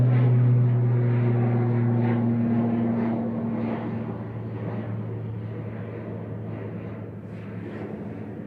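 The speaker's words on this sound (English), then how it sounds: "Aer Lingus Regional departing to Dublin" An Aer Lingus Regional plane departs Manchester Airport for Dublin, its steady low engine drone and hum held throughout and easing slightly in loudness as it pulls away.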